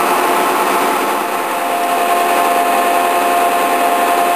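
A 1960 Webster & Bennett Model DH vertical turret lathe with a 36-inch four-jaw chuck runs at 94 RPM, giving a loud, steady mechanical whir and hum with no breaks.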